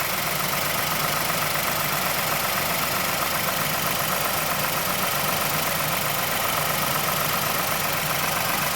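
A Mazda Mazdaspeed6 engine idling steadily in the engine bay, with a faint, regular ticking from the timing chain under a broad mechanical hum, continuous and close throughout.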